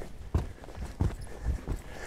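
An eight-year-old Selle Français stallion canters around an arena, its hooves striking the ground in a regular, rolling rhythm of muffled thuds at moderate distance.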